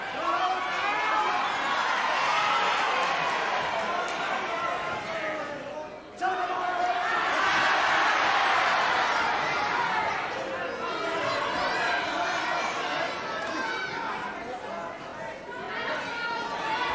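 Crowd at a professional wrestling match, a loud sustained roar of cheering and chatter across an arena, with a brief dip midway before the noise swells again.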